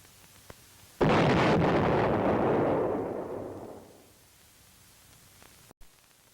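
Artillery or high-angle weapon blast demolishing a tunnel entrance, a single sudden loud boom that rumbles and fades over about three seconds before near silence.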